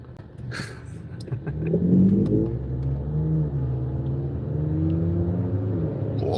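A BMW car accelerating past, its engine rising from a low rumble into a revving roar as it nears, then holding a steady drone.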